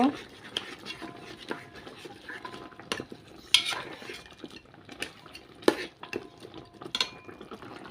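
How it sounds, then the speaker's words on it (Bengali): Goat nihari is stirred in a pot after cumin and coriander leaves go in, producing intermittent clinks and scrapes of a metal spoon against the vessel over a faint simmer, with quiet talking in the background. "এবার একটু নেড়ে চেড়ে দিব"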